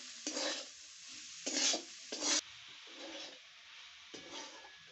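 A potato and wheat-flour mixture for bread pakora cooks in a pan, with a faint steady sizzle broken by several scraping stirs of a spoon, fairly quiet and close.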